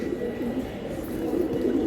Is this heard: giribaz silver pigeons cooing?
yes